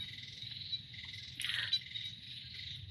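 Frogs croak at night in a steady, faint chorus of high trilling calls that carries on throughout, with one closer call partway through.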